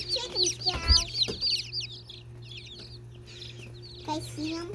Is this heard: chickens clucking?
yes